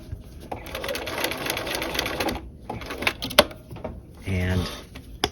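A sewing machine stitching a dual flap pocket runs in steady whirring bursts with short pauses between them, close by, ending in a brief higher mechanical whine, while a person talks quietly.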